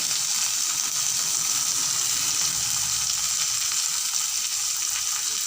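Tomatoes frying in a pan with potatoes and onions, a loud, dense and steady sizzle close by that holds evenly throughout with no voices.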